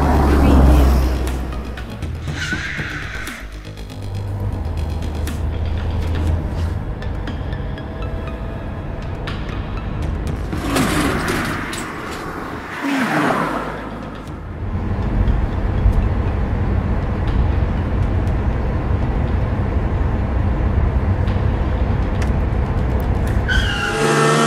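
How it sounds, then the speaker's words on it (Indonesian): Car driven to a police station through traffic, engine running with tire and skid noise, a few sharp bursts partway through and a continuous road rumble. "naiki mobilmu untuk menuju ke kantor polisi"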